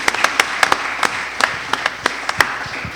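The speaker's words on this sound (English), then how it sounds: "could we have one huge round of applause for Pegasus Books and independent publishing?" An audience at an evening talk on Pegasus Books and independent publishing claps. Sharp, scattered hand claps ring out close by at an uneven rhythm over a light, continuous patter.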